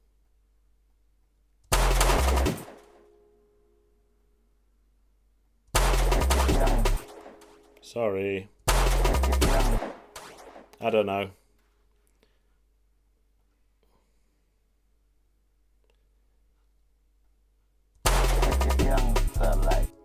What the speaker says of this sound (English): wouldn't it be cool if it had some delay on the gunshot?